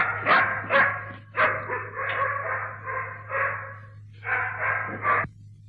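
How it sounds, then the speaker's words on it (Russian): A dog on an old 1937 spy film soundtrack barks repeatedly in a steady series of loud, close woofs over a constant low hum. "Пускай собаку."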